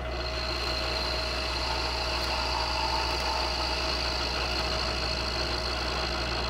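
A milling machine runs at about 700 RPM, cutting a smashed Wilton 3-axis vise with an end mill. A steady, loud mechanical drone with a constant whine holds for the whole stretch, with no talking.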